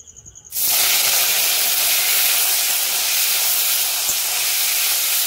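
Paneer frying in hot oil in a kadai, with a loud, steady, close sizzle that starts abruptly after a brief quiet moment and then holds constant.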